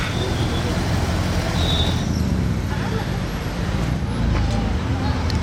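Bugatti Chiron arriving in steady street traffic, a constant roar of passing cars and engines with a murmur of people in the background, loud and continuous throughout.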